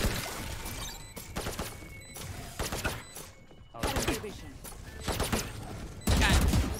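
Automated turrets firing in a shooter video game: dense, rapid bursts of gunfire crackle almost continuously, loud and close, with brief gaps and a heavier burst at the end, and voices talking over the action.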